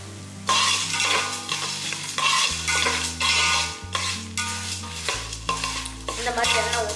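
Dried red chillies and spices roast dry in a pan for country chicken curry, repeated spoon scrapes and rattling stirs over a low crackle, with a steady background hum throughout.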